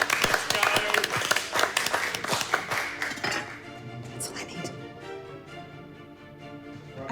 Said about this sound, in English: Come on, Chessline, let's give her a cheer